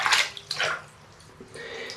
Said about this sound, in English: I got about a quarter of the bathtub filled with water.